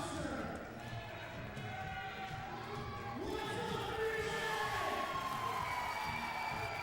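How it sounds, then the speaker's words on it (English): A large crowd at a Mercury 1 professional wrestling show cheers for a wrestler, keeping up a steady roar of shouts and whoops that swells louder midway, with voices mixed in. "This crowd is big on Dinty Moore"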